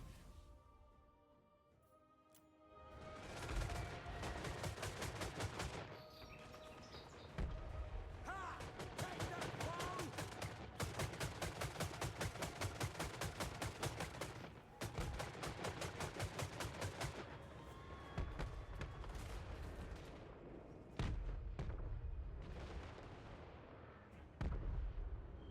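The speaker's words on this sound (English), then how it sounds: "Also want an artillery barrage dropped on them too." Battlefield gunfire and an artillery barrage in Total War Warhammer III: dense bursts of rapid rattling shots and booming blasts roll on in long waves, loud and continuous, with brief lulls between volleys.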